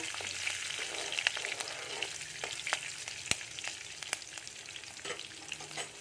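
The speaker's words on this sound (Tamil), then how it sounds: "பச்சை மிளகாய் ஒரு ரெண்டு மூணு செகண்ட் வணக்கி விடுங்க" Green chillies sizzle in hot oil in a pan for sabudana upma, a steady bright crackle punctuated by sharp pops and occasional stirring scrapes.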